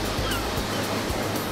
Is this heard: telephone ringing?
no